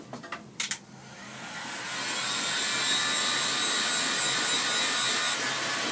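A heat gun blows a steady, loud broadband roar onto a shotgun cartridge casing in a woodworking shop making walking sticks, rising after a couple of brief knocks at the start and holding to the end.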